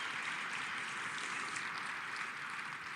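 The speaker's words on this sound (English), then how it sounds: "One more round of applause for Mike." A large conference audience at the QlikWorld 2023 general session claps for a presenter named Mike: a steady, dense wash of applause that stays even throughout, sounding fairly distant and soft.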